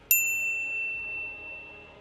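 A single bright notification bell rings once, a clean electronic ding that lingers and fades slowly over a soft background.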